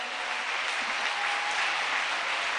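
A church congregation claps its hands during a worship service, a dense, steady wash of many hands at close range with a voice briefly heard within it.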